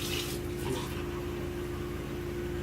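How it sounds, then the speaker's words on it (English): Steady running water from a tap flowing into a container while making cuzzupa dough, a continuous low rushing hiss with a faint hum, no talking. "then you want to get a little bit of water"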